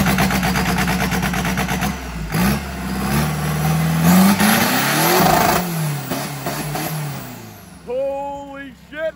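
Mid-1980s Toyota Hilux fitted with an Isuzu D-Max turbo diesel engine at an off-road drag race in Thailand, revving loudly with rising and falling engine pitch, a screeching whine near the end.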